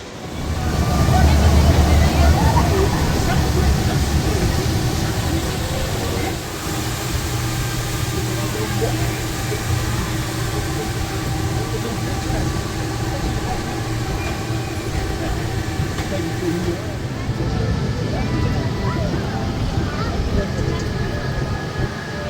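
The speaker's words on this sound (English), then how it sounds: "it was a good ride on the monorail" A monorail ride circling Gardaland amusement park in Italy, a steady rolling rumble and hum of the car on its track running throughout, with people talking faintly over it.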